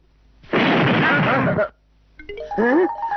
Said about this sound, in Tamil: என்னடா குண்டு சத்தம்?